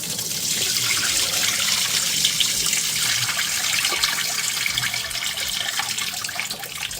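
Running tap water pours steadily as Irish sea moss is rinsed under the faucet for Jamaican sea moss porridge, a continuous bright splashing rush with no talking.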